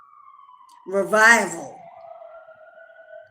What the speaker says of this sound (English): Hear the ambulance siren going by my window?